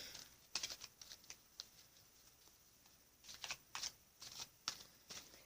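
Cards from a Sage Goddess Gemstone Oracle deck are shuffled in a run of faint, soft riffling bursts, some short and some in quick clusters, with quiet gaps between.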